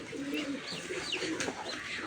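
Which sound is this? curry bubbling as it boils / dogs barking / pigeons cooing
pigeons cooing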